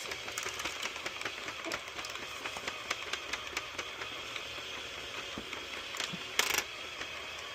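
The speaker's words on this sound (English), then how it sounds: "we're going to crank this thing and we're going to go 130 rounds" Hand-cranked Sentro/Addi circular knitting machine working through rounds, giving a steady, quiet run of fine ratcheting clicks and mechanical rattling close by, with a brief louder clatter near the end.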